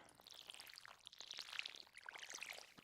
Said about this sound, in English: Not a fan of the water sound.